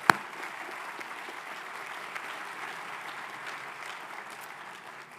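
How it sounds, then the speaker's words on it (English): A commencement ceremony audience gives sustained, fairly distant applause, a soft even wash of clapping after one sharp tap at the start. "We can give them a round of applause"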